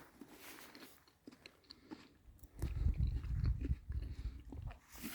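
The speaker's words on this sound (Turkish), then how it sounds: "Çürümemiş olanları dibindekilere alıp alıp yiyorum." Someone chews fallen, unrotten fruit picked up from under a fruit tree outdoors, close wet bites and munching that start softly and grow louder and denser midway, with no talk.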